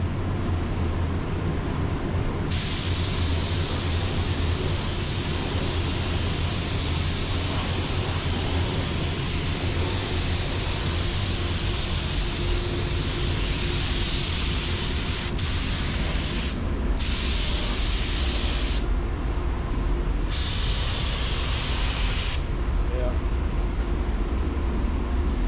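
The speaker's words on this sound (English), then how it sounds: "we're gonna flip them over and clear them and just like point the gun up at them when we spray clear" A spray gun laying clear coat on Jeep parts produces a loud, continuous airy hiss, broken by a few brief pauses as the trigger releases, over a low steady background rumble.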